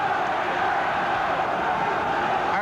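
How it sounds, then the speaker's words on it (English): Crowd cheering at a 1979 boxing match in Halifax, Nova Scotia, between Chris Clarke and Clyde Gray, a steady, dense roar of many voices filling a hall. "The crowd now picking up the cheer."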